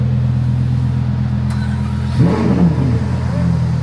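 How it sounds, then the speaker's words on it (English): A Lamborghini Huracan STO supercar drives at around 200 km/h near Wenzhou, its engine a steady, loud droning rumble throughout. A person briefly speaks over it near the middle. "driving around at like 200 kilometers an hour around Wenzhou. Lamborghini Huracan STO."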